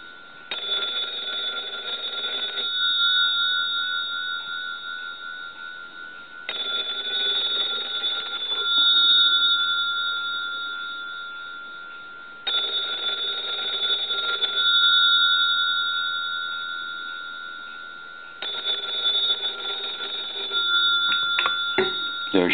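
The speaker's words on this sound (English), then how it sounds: "I'm going to reach over and ring the telephone." A Western Electric telephone bell rings in four long bursts of loud, steady metallic ringing, each about two to three seconds long, with pauses between them and a short clatter at the end.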